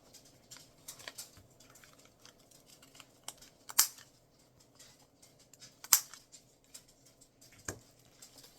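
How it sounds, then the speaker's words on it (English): A hand corner rounder punches the ends of paper card for a pinch box, giving three sharp, crisp clunks spaced a couple of seconds apart over faint handling rustle. "The flap is rounded, so I'm going to round just these 2 ends"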